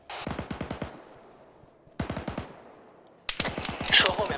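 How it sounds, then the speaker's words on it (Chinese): Bursts of rapid machine-gun fire in the military shooter Arma 3. The bursts are loud and close, with pauses between them, and a denser, louder burst comes at the end. "有个机枪手"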